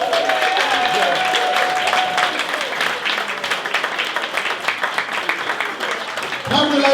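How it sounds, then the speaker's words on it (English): Sustained applause from a large stand-up comedy audience, steady dense clapping that carries on throughout with a slight swell near the end. "give round of applause."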